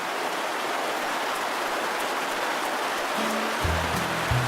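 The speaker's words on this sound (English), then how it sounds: "it's raining like a cow peeing on a flat rock again." Heavy rain pours down in a steady, dense hiss that fills the whole clip, with a low droning tone rising in near the end.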